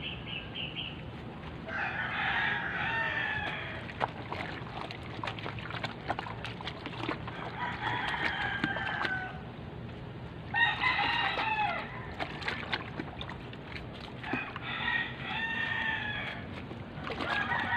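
A rooster crows several times in long, loud bursts spaced a few seconds apart, with clucking and splashing noise in between.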